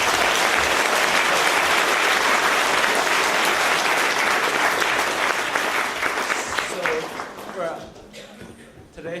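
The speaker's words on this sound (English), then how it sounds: "So please give him another round of applause." Sustained audience applause at the China Development Forum 2013 at LSE: a dense, loud wall of clapping for about eight seconds that thins out and fades, with a voice starting at the end.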